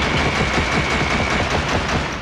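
Rapid, continuous automatic gunfire from a gun in the game Killzone, a dense loud rattle of close shots lasting the whole moment.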